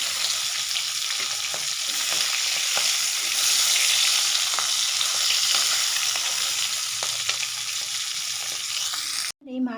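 Fish sizzles steadily in hot oil in a pan, with a loud continuous hiss throughout and occasional faint clicks and stirring. No one speaks.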